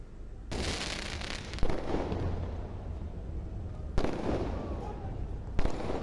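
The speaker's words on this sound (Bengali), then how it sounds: "ওদিকে বাইরে শোনা যাচ্ছে আতশবাজির শব্দ।" Fireworks burst outdoors at the closing of the 17th Dhaka Motor Show 2024, with sharp loud cracks followed by long crackling, booming tails repeating in several waves.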